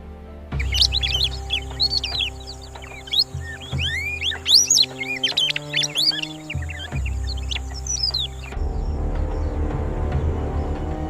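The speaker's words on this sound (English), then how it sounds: "From the skies, a tiny, fearless creature arrives. The Egyptian Plover." Egyptian plover calling in an African river setting, rapid high chirps and tweets in busy bursts over a low steady background, fairly close, with a brief lower rasping passage midway.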